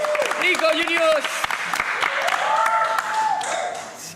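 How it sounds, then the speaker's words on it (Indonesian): A close crowd at a live comedy roast show claps and cheers loudly for a few seconds, with excited voices whooping over the steady applause. "Tepuk tangan dulu kali ya."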